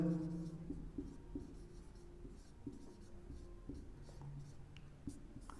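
Chalk or marker writing on a board during a physics lecture, faint scratchy taps and strokes in an uneven rhythm over a low steady background hum.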